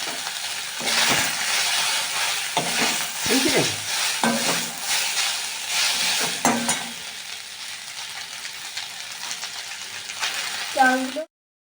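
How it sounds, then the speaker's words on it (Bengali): Chow mein noodles fry and get stirred in a hot wok of oil at home, giving a steady loud sizzle with scraping stir strokes throughout and a brief clank of utensils near the end. "এবারে আমি চাউগুলো আস্তে আস্তে কড়াতে দিয়ে দেব।"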